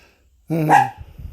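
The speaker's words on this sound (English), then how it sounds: "my dog's barking" A single sharp dog bark rings out close by after a quiet start, followed by a few soft rustles.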